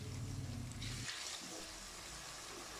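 Ojri (goat tripe) cooks in a pan with a soft, continuous sizzle and hiss at low volume, and a faint low rumble fades out after the first second.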